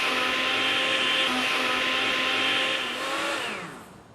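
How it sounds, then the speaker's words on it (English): A blender whirs loudly and steadily as it purees greens with water, a constant high motor whine for about three seconds before the pitch drops as it winds down. "So just pop it in the blender and we want to blend it quite a lot because you want all that lovely green colour to come out."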